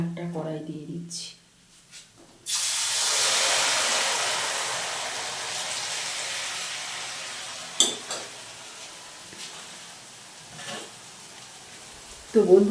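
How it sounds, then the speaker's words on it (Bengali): Sweets frying one at a time in hot oil in a wok, a strong hissing sizzle that rises and slowly fades, with scattered clinks and a few soft spoken words before and after. "তো বন্ধুরা দেখো আমি এইভাবে প্রত্যেকটা একটা করে ভেজে নিচ্ছি"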